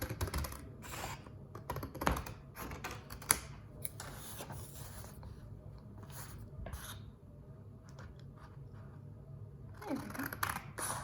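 Scissors cut around the edges of a paper page, a string of small quiet snips and crisp paper rustles at close range, with no talk.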